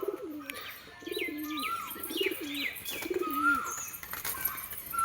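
A domestic loft pigeon, seemingly suffering from pox, coos four times in a steady rhythm at close range, with thin chirps from other birds mixed in behind.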